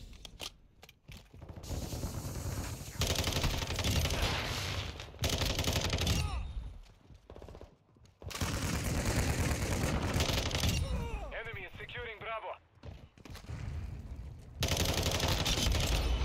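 Rapid FSS Hurricane SMG bursts from Modern Warfare 2 rattle in repeated volleys, loud and dense, broken by short quiet gaps, with a voice talking over parts of the gunfire.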